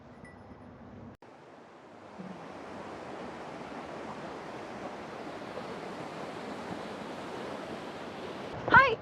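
Ryuzu waterfall at Chuzenji, Japan, a steady broadband rush of falling water that swells in after a brief lull and holds constant and fairly loud until a short bump at the end.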